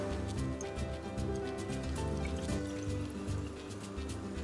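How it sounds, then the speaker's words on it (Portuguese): Water trickles and splashes into a pot of washed rice, a continuous pouring sound with light gurgles, close and fairly quiet, with no talking. "lavar bem o arroz, colocando na panela, adicionar água."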